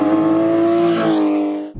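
A Porsche Cayenne GTS with a 4.8 V8 accelerates hard on a race track toward a corner. The engine sounds loud and close with a sustained rising drone that ends abruptly.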